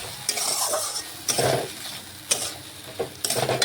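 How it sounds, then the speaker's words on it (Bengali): Potatoes sautéed in a pan with poppy seed and mustard paste: bursts of scraping and stirring against the metal recur every second or so over a low sizzle, heard up close without speech. "একটু আলুটা কষে নিচ্ছি।"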